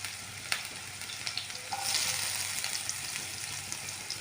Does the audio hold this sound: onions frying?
yes